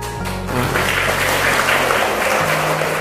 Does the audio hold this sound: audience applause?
yes